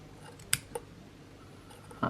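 A few crisp snips of scissors cutting while a vape atomizer is built: two quick clips close together, then a pause and a third snip at the end, close and quiet.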